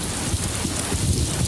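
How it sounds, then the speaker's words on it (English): Rain falls steadily, a dense, loud patter of drops hitting surfaces with a low rumbling undertone, continuous and close for the whole moment, with no speech. "we felt a drop of rain. Then another one, and another."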